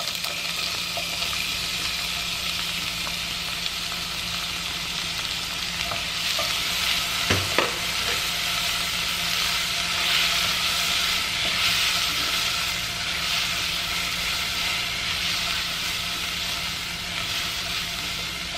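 Onion tossed into a pan of well-fried sausage sizzles in a steady, loud, broadband hiss that runs unbroken throughout, with one brief sharper clatter near the middle and no voices.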